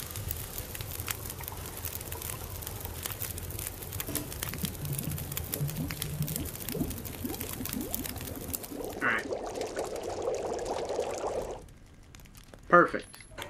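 Water pours in The Long Dark, a steady splashing, trickling stream running for several seconds alongside fire crackle, with a voice talking over it, before a quieter tail.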